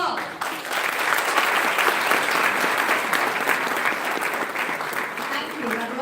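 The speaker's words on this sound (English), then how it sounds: "A big round of applause for everyone here." A large conference audience breaks into loud, sustained applause, with thick overlapping claps holding steady throughout after a brief swell at the start.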